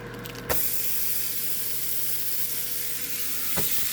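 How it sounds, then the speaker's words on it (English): Steady, loud sizzling of steaks frying in a hot pan, a constant crackling hiss with a couple of sharp clicks, no talking. "Look at that sizzle."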